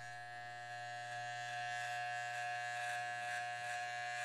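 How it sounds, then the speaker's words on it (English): A hair trimmer buzzes steadily and close up during a skin fade haircut, a constant electric hum with slight texture changes as it moves against the head, with no talk. "So we're going to do 2 steps and get 2 lengths out of our trimmer."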